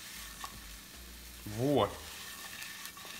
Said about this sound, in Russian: Послушайте этот звук. Все жарится.